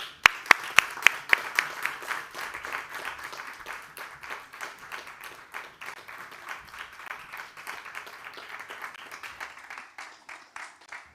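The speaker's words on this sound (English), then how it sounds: "So let's please give a huge round of applause for our three fabulous speakers" An audience at a COP26 youth panel claps for three speakers, starting with a few sharp, close claps, then settling into a scattered, moderate round of applause that slowly thins toward the end.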